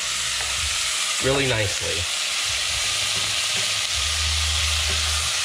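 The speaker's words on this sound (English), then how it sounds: "you wanna get this meat browning" Pork pieces browning in a hot pan for chili verde, a loud continuous sizzle and frying crackle up close, with someone talking briefly over it.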